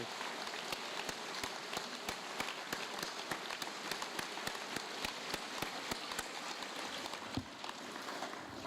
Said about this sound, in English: So if we could have a round of applause, please, for everybody who supported today.